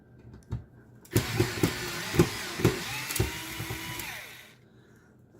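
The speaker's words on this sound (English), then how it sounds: "I'm just trying to save time, so I used one of my little electric screwdrivers." A small Craftsman electric screwdriver drives sheet metal screws into a tabletop furnace, giving a whirring motor run of a few seconds punctuated by sharp clicks and knocks, with no talk over it.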